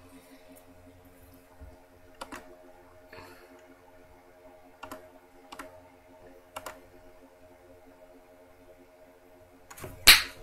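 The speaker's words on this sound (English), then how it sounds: "now let's try and type in Python" Sparse, quiet keystrokes on a computer keyboard, a few isolated taps spread out over a faint electronic hum, ending with a sharper, louder click.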